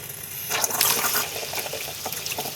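Hot water running from a repaired household tap after the supply is turned back on, a steady splashing rush that swells briefly near the start and then continues evenly, close by with no voices.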